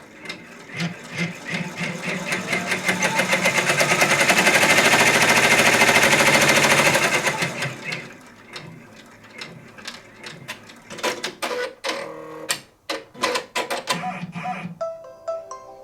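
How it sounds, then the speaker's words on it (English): A Brother or BabyLock multi-needle embroidery machine stitches an appliqué placement line with a fast, loud mechanical whirring hammer that swells and then stops, followed by scattered clicks and clunks of the mechanism. "now it's going to stitch the placement line for the fabric"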